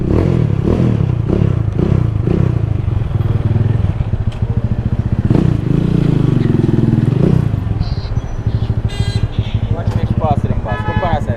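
A motorcycle ridden on a road in Jamaica, its engine revving in repeated throttle bursts before settling into a steady run, close and loud, with brief horn-like toots near the end.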